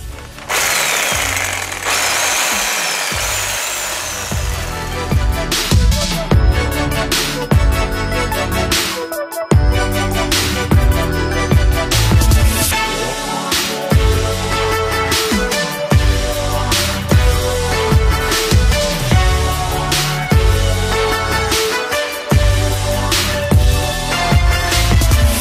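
A power tool cuts into a BMW E36 car, starting with a steady grinding whine that gives way to loud, rapid, chattering and hammering bursts, close up and continuous throughout.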